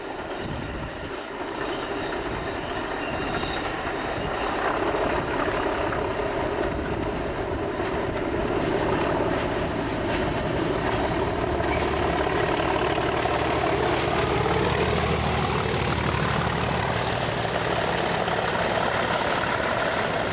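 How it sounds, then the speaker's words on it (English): A steady, heavy engine drone rumbles continuously throughout, a loud Class 37 diesel locomotive hauling an excursion train past along Loch Eilt on the West Highland line at a constant, unbroken roar. "illustrated here by a Class 37 hauled excursion train running along Loch Elt"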